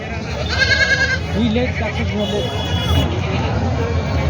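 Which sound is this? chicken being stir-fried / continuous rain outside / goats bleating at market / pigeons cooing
goats bleating at market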